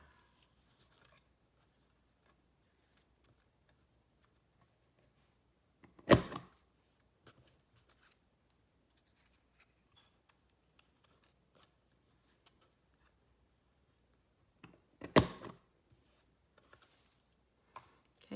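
Scissors trim a strip of paper for a Valentine card, making two distinct crisp snips far apart in near silence, with faint small ticks and handling noises scattered between them.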